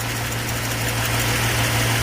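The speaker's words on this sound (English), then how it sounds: "But look at that. That engine's purring." A Mustang's engine idles with a steady low hum and slight rough vibration after sitting unused for a while, close and constant, without any talking.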